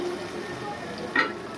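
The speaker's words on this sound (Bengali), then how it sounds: "মশলা থেকে তেল ছাড়তে শুরু করে দিয়েছে, এই যে দেখো। এবার এর মধ্যে আমি একটু ঘি দেব।" Spices and ghee sizzle in hot oil in a pan while prawn pilau is being cooked, giving a soft, steady close frying hiss with a brief louder burst near the end.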